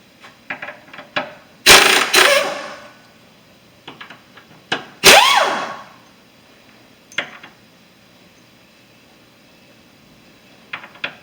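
Impact wrench working on the rear motor mount bolts of a 2001 Toyota Celica in a garage, two long loud hammering bursts among several short sharp clicks and taps, with quiet gaps between.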